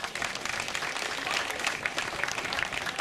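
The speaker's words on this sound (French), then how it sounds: "Merci encore de la saluer par un tonnerre d'applaudissements." A crowd at a women's stage cycling race in Brittany gives steady, dense applause for a rider, with continuous clapping throughout and a few voices faintly underneath.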